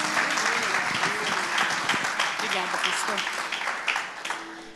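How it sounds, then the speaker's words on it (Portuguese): Church congregation clapping warmly in welcome, a sustained wash of applause with voices talking over it, gradually thinning out near the end. "Vamos receber com alegria, aplaudindo ao Senhor em nome de Jesus"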